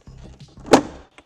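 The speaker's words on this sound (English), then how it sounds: "Just listen to this pop." A trim panel on a Tesla Model X door, being stripped for a satin black wrap, pops loose with one sharp, loud snap, after a low mechanical rumble and just before a faint small click.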